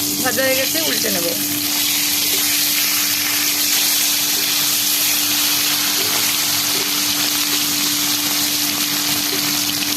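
Rohu fish pieces frying in hot oil in a kadai for a Bengali fish curry, giving a loud, continuous close sizzle with a faint steady hum underneath and a brief utensil clink near the start.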